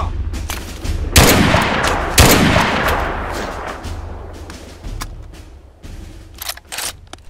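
Gunfire in the war video game Mud and Blood, set on D-Day: heavy artillery-like blasts and scattered rifle shots, with two big booming hits early on followed by sporadic sharp cracks over a rumbling battlefield background.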